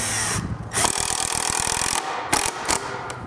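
A power drill drives a screw into a wooden stand in short whirring bursts, stopping and starting several times up close as the screw bites into the wood.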